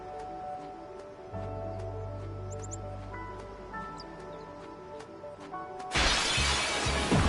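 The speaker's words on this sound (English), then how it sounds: "Man, that glass breaking sound, at least in my headphones, is so loud." Glass shatters loudly in the video game Final Fantasy X, a sudden bright crashing burst near the end that rings out over the quieter in-game music and ambience.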